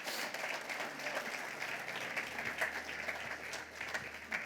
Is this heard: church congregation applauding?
yes